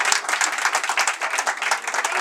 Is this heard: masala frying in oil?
no